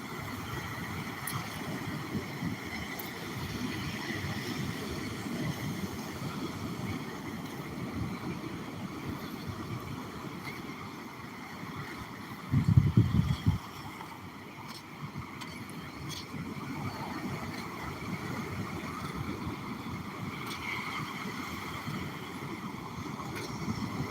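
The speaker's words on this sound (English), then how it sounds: "As you probably hear, it's a little bit windy," Steady wind buffets the microphone with a broad, continuous rush, briefly louder near the middle, with surf-like noise underneath throughout.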